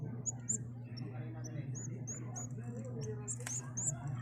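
Young birds from a new batch give faint, high, thin chirps scattered over a steady low hum, with a voice talking quietly underneath.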